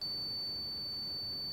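A steady, high-pitched electronic beep drones continuously from a moisture meter reading a shower wall before tiling, faint and alone with no other sounds.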